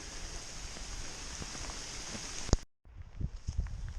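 Steady rain patters on a footpath near a golf course during an October countryside walk, a soft continuous hiss broken by a brief dropout, then resuming with a few close footsteps and rustles.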